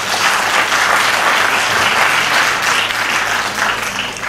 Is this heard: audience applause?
yes